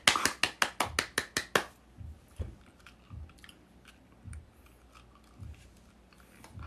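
Raw sea cucumber chewed close to the mic at a mukbang in South Korea: a quick run of about eight sharp, crunchy bites at the start, then slower wet, squishy chewing with scattered clicks.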